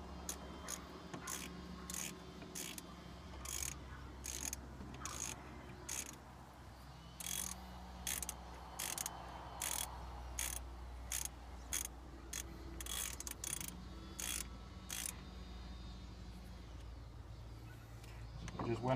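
A ratchet with a 12mm socket tightens brake caliper bolts on a 2002 Dodge minivan, giving repeated rapid clicking bursts in a steady back-and-forth rhythm, close and clear, with faint talk mixed in.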